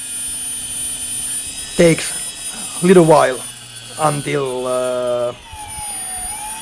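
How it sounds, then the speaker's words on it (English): A brushless motor driven by a modified I2C electronic speed controller whines in a steady high tone while someone talks over it, with pitch jumps and brief rising bursts as the speed setting changes. "you can hear the engine"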